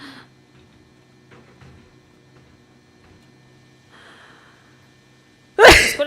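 A single sharp sneeze bursts out loud and close near the end, after a stretch of quiet room noise with faint ticks and low hum during an Outlast Trials co-op stream.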